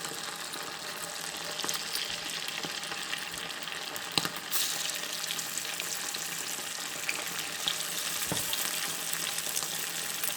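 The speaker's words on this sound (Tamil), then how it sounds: "இப்போ வறுத्து உங்களுக்கு காட்டுறேன்." Chilli chicken pieces fry in shallow oil with a steady, close crackling sizzle that runs throughout, a few sharp pops and clinks standing out; no one speaks.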